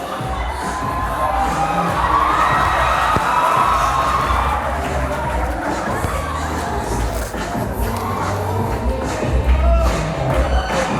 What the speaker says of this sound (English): Let's have the audience make some noise.